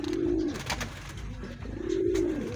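Domestic pigeons, including white imported birds kept in a loft, give two low, drawn-out coos about a second and a half apart, close and clear over a quiet background.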